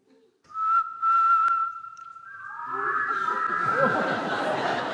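A clear, steady whistled tone held for about two seconds, then fading into a wavering whistle amid laughter and chatter from a group.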